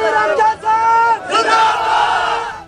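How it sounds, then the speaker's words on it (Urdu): Angry crowd of young and old men chanting slogans outside a police station in Fateh Jang in support of an arrested spiritual healer; loud, sustained massed shouting in rising waves with brief dips, close and dense. "مشتعل افراد نے پیر کے حق میں نعرے بازی کی"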